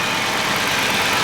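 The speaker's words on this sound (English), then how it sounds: "And yeah, engine sounds fantastic now." A Dodge Charger engine idles steadily, a continuous low rumble with a broad hiss over it, close and constant without talk.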